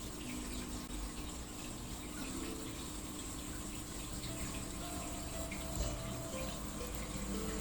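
Steady river water flows and slides over small dams, a continuous soft rushing wash with no breaks, fairly distant and even throughout, with no voices.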